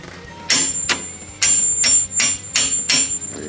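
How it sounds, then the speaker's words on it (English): A hammer tapping a temporary bolt out of a KW adjustable coilover on a DeLorean DMC-12, six sharp metallic ringing strikes at an even, unhurried pace, close up. "inserting your shock bolt through the front and tap out the temporary bolt"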